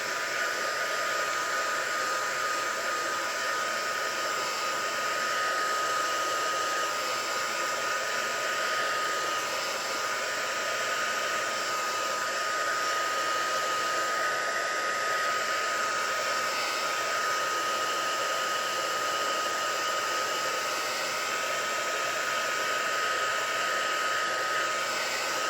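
A hair dryer blows continuously at a steady, even pitch for the whole stretch, close and unbroken, with no voices over it.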